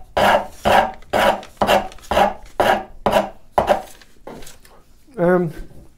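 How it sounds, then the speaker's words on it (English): A heavy-cut rasp files a corner off a piece of firewood being shaped into a grooving plane, with about eight rhythmic loud scraping strokes close up and a short voice at the end. "I'm going to grab a rasp, a fairly heavy cut on here."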